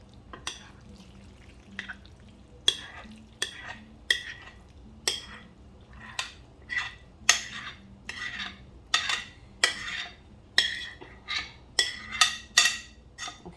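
Macaroni and cheese being emptied into a small casserole pan greased with olive oil, with repeated close clinks and scrapes of a utensil against the dish, forming an irregular run of short taps.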